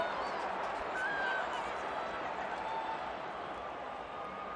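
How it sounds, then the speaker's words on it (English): Crowd noise keeps up a steady roar at the Australia versus New Zealand women's rugby sevens World Cup championship final in South Africa, a dense wash of voices with a commentator talking over it throughout. "Crowd roaring these teams on."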